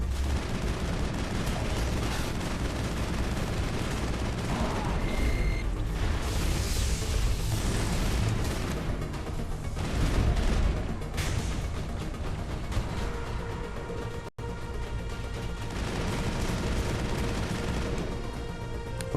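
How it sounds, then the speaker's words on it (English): Sustained gunfire and heavy blasts from the video game Mass Effect during the Ilos landing, loud and continuous, with volleys of shots, booming impacts and a brief cut near the end. "What were you shooting at?"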